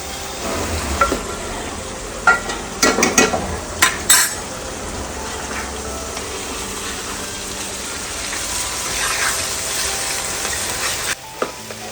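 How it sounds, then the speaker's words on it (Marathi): Spice masala being roasted in a pan for a Konkan crab dish, with a steady sizzle, several sharp clatters and scrapes of the spoon early on, then gentler frying and no voices. "हे असं थोडं भाजून घ्यायचा मसाला चांगला. भाजून घ्यायचं."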